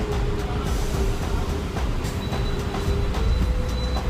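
Hong Kong tram rolling along street rails, a steady close rumble with faint wheel squeal and occasional clacks, continuous for the whole stretch with no talking.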